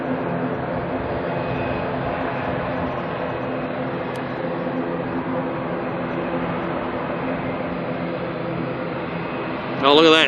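A DHL cargo plane takes off from the runway at Auckland Airport with a loud, steady jet roar that holds throughout, ending in a short louder burst of noise.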